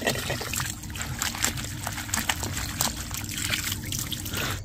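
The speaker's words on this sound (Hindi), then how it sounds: "देखिए अभी तक पानी चल ही रहा है" Water runs steadily from a pipe fed by a pump at a hillside home while hands and feet are washed, giving a continuous trickling, splashing flow that is close and fairly loud, with no talking.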